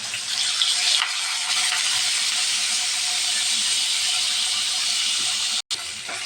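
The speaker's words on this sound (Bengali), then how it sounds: "তেলটা গরম হয়ে গেল এখন আমি মাছ দিয়ে দিব" Koi fish (climbing perch) fry in a pan of hot oil with a loud, steady hissing sizzle that continues without pause, broken only by a brief dropout near the end.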